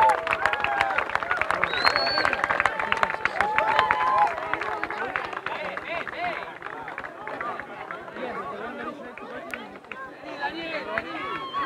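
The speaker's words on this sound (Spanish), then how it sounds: "un fuerte aplauso" A crowd claps loudly and quickly in a dense burst of applause at a polo tournament prize-giving, then it thins into chatter and scattered claps as people talk over it.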